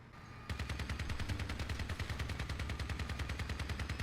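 Reaper guns fire at a shield in the vehicle combat game Crossout, a loud, continuous rapid burst of gunfire with a steady, fast rhythm that starts abruptly and keeps hammering to the end.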